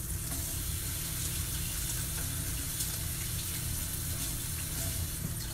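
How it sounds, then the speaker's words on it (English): Running water from a tap as hands are rinsed beneath it, a continuous, fairly soft splashing rush that holds steady throughout with no one talking. "let me rinse my hands"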